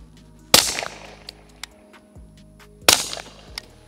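Two sharp suppressed pistol shots from a VP9 fitted with a shortened Banish 46 suppressor, spaced about two seconds apart, each a loud crack followed by a brief decaying tail, with faint clicks between them.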